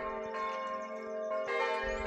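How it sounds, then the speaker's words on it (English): Video game Kingdom: Two Crowns bells ringing, a sustained resonant chime with a second strike midway, clear and close, with no talk. "Why do I hear bells?"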